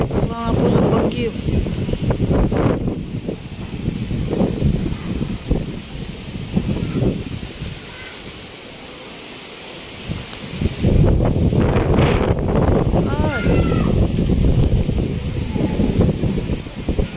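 Strong wind during Typhoon Kristine roars and gusts loudly and steadily across the whole stretch, easing briefly near the middle before surging back, with rustling and buffeting noise throughout.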